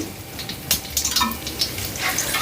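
Urad dal, dried red chilies, curry leaves and asafoetida sizzle in hot oil for a tempering, a close, steady crackling fry with small pops and stirring scrapes, no voices.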